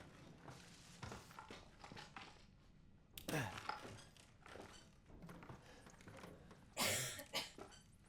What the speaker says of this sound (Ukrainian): Ось бачите, кашлюють.